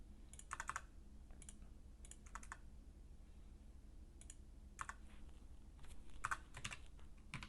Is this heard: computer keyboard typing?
yes